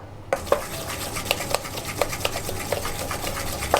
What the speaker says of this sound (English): You just want to mix that so it's all together, light, fluffy, and the sugar's more dissolved and mixed in.